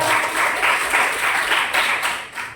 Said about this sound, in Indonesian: Beri tepuk tangan untuk Jessica